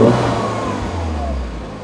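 A 2008 Mini Cooper S with a no-boost fault, revved in neutral with a mid-pitched engine note that rises and then settles, with no turbo whine, close and steady, no talking.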